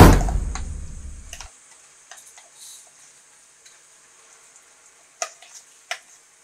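Ground date paste for a dates pickle hits hot coconut oil with a loud, dense sizzle for about a second and a half, then settles into quiet with faint scattered ticks and crackles.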